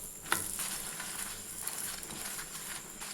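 A potato chapati sizzles faintly on a hot pan after oil is added, making a soft continuous frying hiss with a light tap near the start, no talking.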